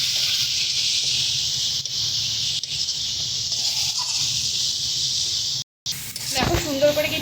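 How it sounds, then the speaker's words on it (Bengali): Spice paste with chili, cumin and coriander powder and salt fries in a pan for chicken curry, a steady close hiss of sizzling with a brief gap and a clattering stir near the end. "চলো ভালো করে এবার পুরো মশলাটাকে আমরা কষিয়ে নেব।"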